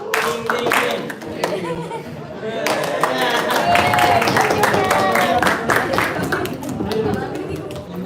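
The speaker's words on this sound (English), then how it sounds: "If you're happy and you know, clap your hands." An audience at a youth camp talk show claps hands along to the song "If You're Happy and You Know It," steady rhythmic clapping mixed with crowd chatter and voices throughout.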